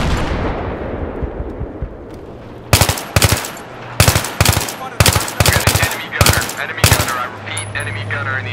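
Machine gun fire in Battlefield 3 on the Tehran Highway map, loud sustained bursts of rapid shots in several groups over a low rumbling battlefield background.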